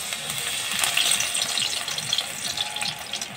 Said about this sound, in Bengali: এরকম করে সব ধনে পাতাগুলোকে ভেজে নেব।